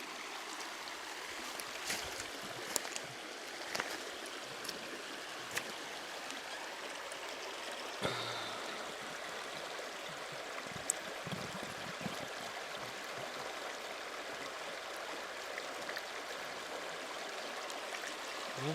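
Water from a stream in the wilderness is scooped into a container, a soft continuous trickle and babble with occasional splashes and clunks, fairly faint and close.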